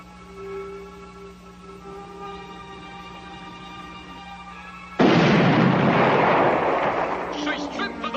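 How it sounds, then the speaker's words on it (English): A signal cannon fires from a ship at sea, a sudden loud blast that cuts in over a steady humming drone and then rolls on as a long, dense roar. "Fire a signal cannon."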